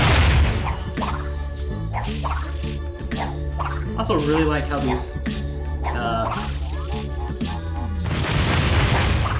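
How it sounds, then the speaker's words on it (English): Explosions in the video game Crash Twinsanity, Cortex's Laboratory level: repeated loud booms and crashes over game music, with someone talking over them. "platforms react to the explosions"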